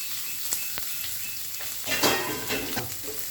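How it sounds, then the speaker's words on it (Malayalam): Sliced onions and green chilies hitting hot oil with curry leaves in a pan, a loud crackling sizzle that swells near the end with a few sharp spits and light utensil clinks, close up and without talk. "സവാളയും പച്ചമുളക് കൂടെ ഇട്ട് ഒരു 4 പച്ചമുളക്."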